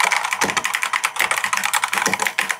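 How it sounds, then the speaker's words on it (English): Rapid, crisp clicking of keys on a computer keyboard, a continuous quick typing rhythm up close with no voices. "I love the typing sound"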